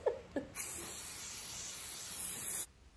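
A spray paint can hisses steadily onto a thrifted picture, a close, bright burst of about two seconds that cuts off sharply, preceded by a couple of brief soft sounds.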